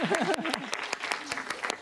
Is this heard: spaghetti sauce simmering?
no